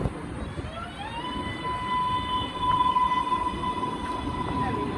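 A subway train rumbles by, its electric motors rising into a high whine over a continuous rolling roar.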